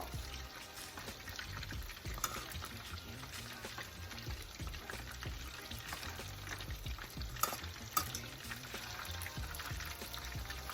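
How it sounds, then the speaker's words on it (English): Chicken wings are stirred into simmering hot sauce in a pan, giving a steady close sizzle with wet scraping and stirring throughout and a few sharper clinks. "now it's time for you to transfer those wings into the actual hot sauce"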